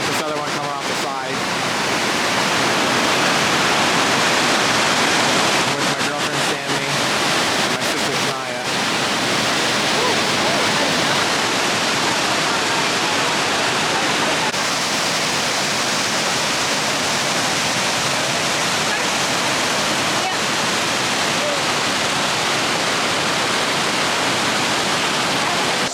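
Bald River Falls in Tennessee roars as a loud, steady wash of falling water close by, filling the whole stretch with dense broadband noise and a few brief thumps near the start.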